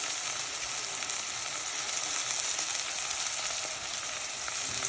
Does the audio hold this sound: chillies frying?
yes